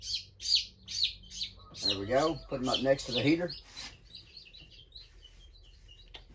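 Several young chicks cheep in quick high bursts close by, one with feathered feet and a yellow patch under its chin, being set beside a heater in a brooder box; someone talks over them mid-clip, then the faint chirping continues alone.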